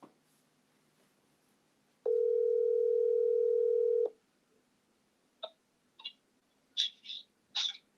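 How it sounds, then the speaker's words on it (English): A telephone dial tone hums steadily for about two seconds, then cuts off, followed by a few short scattered keypad beeps as a number is dialed, quiet surroundings, no talking. "I'm dialing again"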